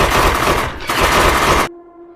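Loud, sustained automatic gunfire from a war film rattles continuously in two long bursts separated by a short gap, then cuts out, leaving a faint lingering hum.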